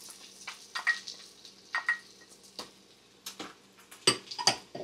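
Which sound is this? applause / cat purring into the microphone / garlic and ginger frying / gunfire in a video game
garlic and ginger frying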